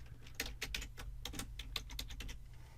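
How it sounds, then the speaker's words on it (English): Password typed on a computer keyboard, a quick, uneven series of close, light key clicks over a faint steady hum, with no talking. "So I'm just going to now type the password"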